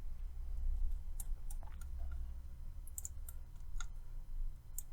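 A computer mouse gives a scatter of sharp, close clicks, single and in quick pairs, over a low steady hum, with no talking.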